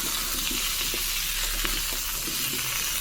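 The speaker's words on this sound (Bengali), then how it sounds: "পটলের তরকারিটা বসিয়ে দিলাম।" A pan of pointed gourd curry sizzles and fries steadily, a loud continuous hiss with occasional stirring clinks, no talking over it.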